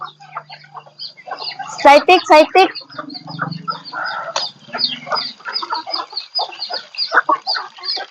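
Chickens cluck and squawk in short bursts while a person talks over them at close range.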